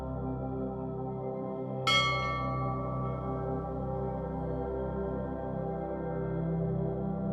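A single bell strikes once with a bright attack, then rings on in a long shimmering decay over a soft sustained drone, with no voices heard.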